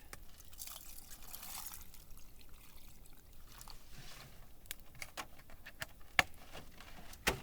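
Water pours onto a bouillon cube in a camp stew pot outdoors in winter, a trickling, splashing stream followed by scattered drips and small clinks, close and quiet with no talking.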